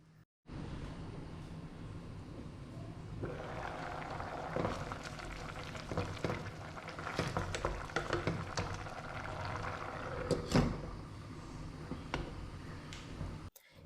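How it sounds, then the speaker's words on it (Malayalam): Pasta water in a pot set on a high flame, steady bubbling and hissing with scattered ticks and clinks, close and continuous, no talk. "എന്നിട്ട് ഹൈ ഫ്ലെയിമിൽ അത് തിളപ്പിക്കാൻ വെക്കുക."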